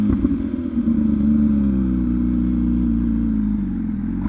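A Brutale motorcycle fitted with a titanium exhaust accelerates hard under full throttle, its engine note loud and close, a strong steady roar rising slightly in pitch across the whole stretch.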